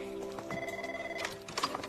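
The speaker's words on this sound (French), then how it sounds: "C'est le téléphone qui sonne." Telephone ringing with a sustained electronic tone that holds for most of a second, followed by a brief burst of rustling and clatter, moderately loud with faint background activity.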